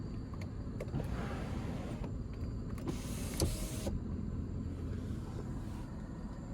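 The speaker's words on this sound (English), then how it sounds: "Now I think you can only tilt the sunroof." The power sunroof of a 2020 Bentley Mulsanne Speed tilts with a short electric motor whir lasting about a second, heard close inside the cabin over a low steady road hum.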